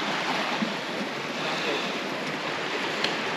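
Water rushing over a trail crossing near the Panamint City ghost town, a steady broadband wash that stays fairly loud and unbroken throughout, with no talk over it.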